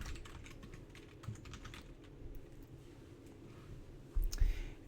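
Faint, close keyboard typing while entering C# code, a soft run of quick irregular key clicks with a slightly louder burst near the end and no talking.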